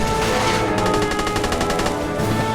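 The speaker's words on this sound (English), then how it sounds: "Some machine gun here, some MG42." Rapid machine gun fire from an MG42 in a toy war battle scene, a fast steady burst of shots running through the middle of the clip over a loud, busy battlefield background.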